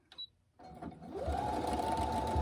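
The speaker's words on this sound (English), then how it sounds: "just run it through the sewing machine" A sewing machine stitches a seam about 1/8 inch from the edge of a small drawstring gift bag, running in a steady close whir after a few brief handling clicks at the start.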